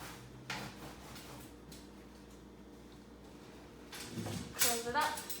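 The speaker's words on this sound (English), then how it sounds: "Open the drawers again." Kitchen drawers in a Club Wyndham resort studio are opened and shut, giving a soft knock early on and a clearer cluster of sliding and clattering bumps near the end, over faint room noise with low voices in the background.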